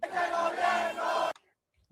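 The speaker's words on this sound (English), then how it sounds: "the people of Venezuela are cheering" A crowd of Venezuelan people cheers and shouts in the streets, a loud, dense roar of voices that cuts off abruptly, followed by near silence.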